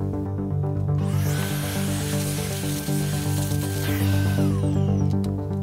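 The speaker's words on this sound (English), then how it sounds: "Here I'm cutting the bottom of the three layers with a recessed pocket to hold the motor." A CNC engraving router grinds a recessed motor pocket into a plastic layer, a loud, steady whine with a rising pitched tone partway through, close and continuous with no talk.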